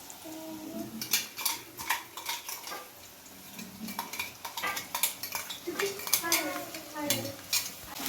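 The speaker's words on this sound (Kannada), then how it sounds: "ಇದನ್ನು ಚೆನ್ನಾಗಿ ಹಸಿ ವಾಸನೆ ಹೋಗುವಾಗ ಫ್ರೈ ಮಾಡ್ತೀವಿ" Ginger garlic paste is stirred in a pan for crispy cabbage Manchurian, with metal spatula scrapes and clinks against the pan coming in uneven bursts and only a faint sizzle beneath.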